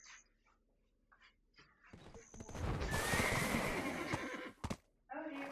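A horse gives a loud, shrill whinny lasting a couple of seconds in the middle, with scattered quieter snorts and small sounds before and after, fairly close by.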